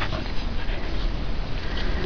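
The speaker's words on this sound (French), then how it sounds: "Oh, le vilain chien, chien." A Groenendael dog close by, whimpering and panting over a dense, noisy background.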